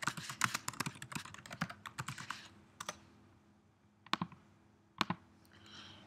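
Fingers type on a computer keyboard in a quick run of clicking keystrokes, then slow to a few isolated taps with pauses between, close and fairly quiet.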